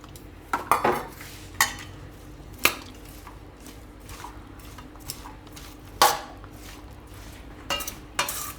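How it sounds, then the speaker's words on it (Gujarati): A spoon clinks and scrapes against a bowl while chana salad ingredients are mixed, giving irregular sharp taps and clatters at close range between soft squishy stirring, with no voices. "આ બધું મિક્સ કરી લેવાનું આ રીતે."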